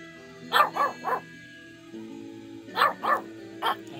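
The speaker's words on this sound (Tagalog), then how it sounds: "Ang hina naman ang tahol mo." A dog named Panda gives short, soft yipping barks in two bursts of three, close by, with a quiet pause between them.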